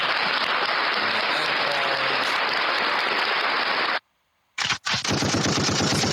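Sound-effect gunfire: a dense, loud burst of rapid machine-gun-like shots runs for about four seconds and cuts to silence. A brief crack follows, then another loud rattling volley.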